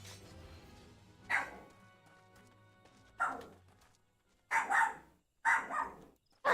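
Dogs bark in separate bursts of one to three yelps, spaced a second or two apart and building toward the end, somewhat distant in the background with no one talking.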